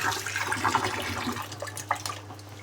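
Running tap water pours while something is washed under it, a continuous splashing stream with a few sharper spatters, close and fairly loud, and a steady low hum underneath.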